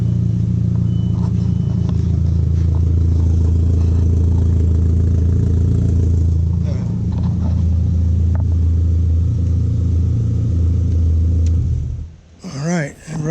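A Volkswagen GTI 1.8-litre turbo engine idles steadily with a low, even rumble close by, then cuts off near the end as a voice briefly speaks.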